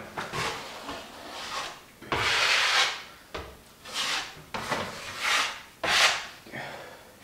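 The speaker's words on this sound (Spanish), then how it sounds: "dejo secar y vuelvo a lijar pasta" Repeated rasping strokes of sandpaper scraping dried drywall joint compound on a flat wall, several bursts of rubbing with short pauses between, close and fairly loud.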